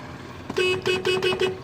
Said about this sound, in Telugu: హారన్ కూడా వర్క్ చేస్తుంది, చూపిస్తా.